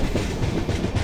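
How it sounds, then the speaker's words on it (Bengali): A passenger train runs along a rail line through hilly forest country, a close, steady rumble with rhythmic clickety-clack of wheels over rail joints. "এই হচ্ছে আমাদের ট্রেন, রেল লাইন"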